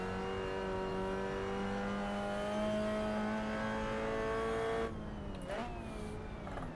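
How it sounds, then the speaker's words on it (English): 1960s touring race cars lap Goodwood in Assetto Corsa, with a steady, droning engine note held at high revs. Near the end it drops off sharply, followed by brief tire squeals and gear-change shifts. "this has been the 60s touring car experience at Goodwood in Assetto Corsa"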